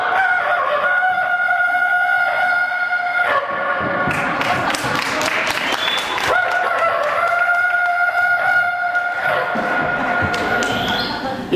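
A comedian's voice imitates a distant rooster crowing, stretched long with an echoing tail, over steady background music at a live performance.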